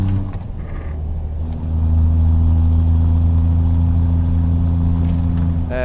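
Truck engine in American Truck Simulator, a player-owned rig in a convoy, idles at first and then settles into a loud, steady low drone with a faint whine above it, close and with no talking.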